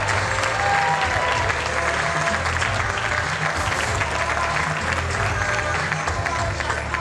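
Audience at a men's bodybuilding show applauding and cheering continuously, dense clapping from a large crowd with an announcer's voice partly heard underneath.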